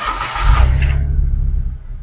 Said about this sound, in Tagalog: Paandarin ko yung makina ngayon